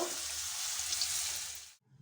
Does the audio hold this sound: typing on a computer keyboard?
no